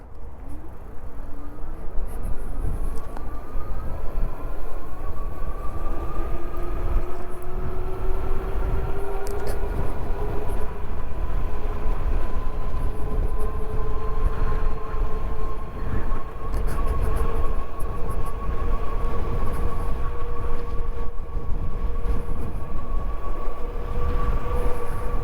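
An Invanti Tide 2 folding fat tire e-bike running on throttle only, with a rising electric motor whine climbing steadily in pitch over heavy rushing wind and road rumble throughout.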